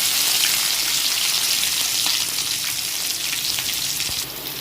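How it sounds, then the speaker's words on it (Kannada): Chopped onion and curry leaves fry in hot oil for hotel-style pepper chicken, producing a loud, continuous crackling sizzle that eases a little at the very end. "ನೀರುಳ್ಳಿ ಹಾಕಿ ಸ್ವಲ್ಪ ಉರಿಯೋದು ಈಗ ಎಣ್ಣೆಯಲ್ಲಿ"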